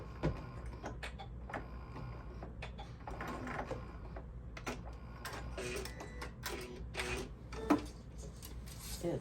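A sewing machine back tacks through the fabric of a pet sling in short, quiet mechanical bursts of stitching, separated by pauses and a few soft clicks and handling noises.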